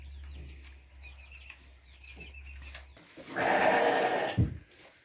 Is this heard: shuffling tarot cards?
no